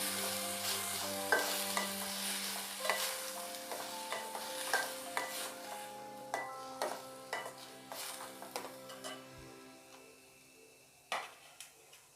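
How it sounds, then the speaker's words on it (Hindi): Chopped onion fries in a pan for a veg momo filling, a steady soft sizzle broken by repeated scraping and tapping from a stirring spoon, with no talking. "अनियन डाल के भी हमें इसे 1 से 2 मिनट पकाना है"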